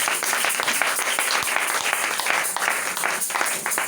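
A church congregation applauds, dense sustained clapping from many hands filling the room evenly throughout.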